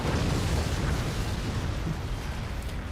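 A mortar shell striking a fortress in the physics-based strategy game Forts, heard as a dense, rumbling explosive roar that fills the whole moment, loud and sustained without clear separate blasts.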